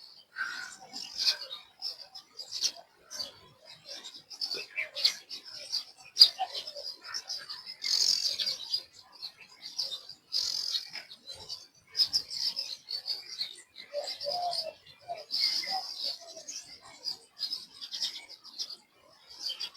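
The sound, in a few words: sparrows chirping at dawn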